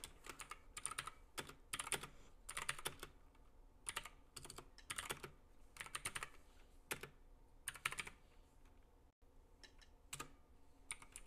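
Fast, uneven typing on a computer keyboard while playing Minecraft, with bursts of close, crisp key clatter separated by short pauses and no talking.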